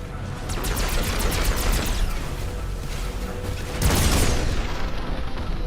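SMG gunfire in the mech strategy game Phantom Brigade, rapid continuous automatic bursts with dense rattling reports and heavy low rumble, a second burst starting near the end, loud and unbroken.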